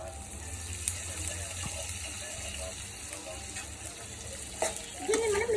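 Egg chicken fried rice being stirred in a pan with soy sauce just added, a steady sizzle and scraping throughout at moderate level, with a few louder clinks near the end.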